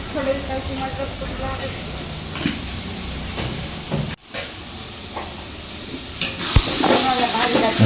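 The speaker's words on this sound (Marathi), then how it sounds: "व्यवस्थित आपण हलवून घेऊया" Cumin and mustard seeds sizzle and crackle in hot oil in a pan while a spoon stirs and scrapes them steadily; a few clanks of the utensil ring out, with a louder sizzling burst near the end.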